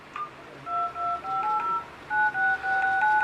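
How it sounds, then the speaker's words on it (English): A quick series of touch-tone keypad beeps from a CHUWI V17HD 7-inch Android tablet while dialing, each press a short dual-pitched tone, coming in bursts with brief gaps between them. "So it has both a dial tone, like a sound when you press the key, and a vibration."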